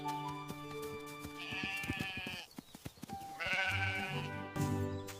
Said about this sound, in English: The sheep are going to bed now.